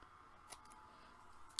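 Scissors trimming paper strips at a scrapbooking crop, two short crisp snips spaced about a second apart, close and quiet.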